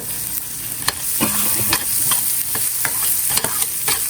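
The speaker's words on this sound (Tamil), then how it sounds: "அந்த எண்ணெயில் பெருங்காயம் பொரியணும்." Asafoetida frying in hot oil for a dal kuzhambu tempering, a steady loud sizzle with scattered pops and a few scrapes of stirring throughout.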